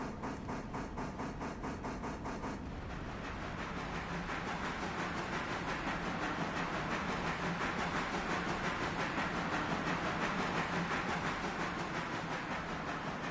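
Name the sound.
train moving on tracks in the video game Railroader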